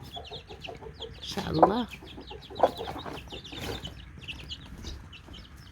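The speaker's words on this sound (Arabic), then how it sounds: "هما الكتاكيت" Newly hatched chicks and a hen on a farm, with a steady chorus of high chick peeping and a few louder clucks and flaps from the hen near the middle, while a person briefly speaks.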